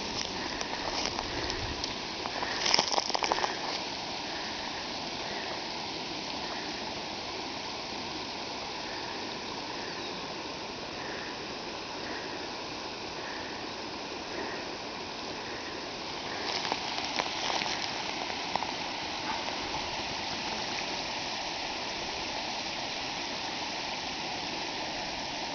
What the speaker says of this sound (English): A lot of water is coming down the waterfall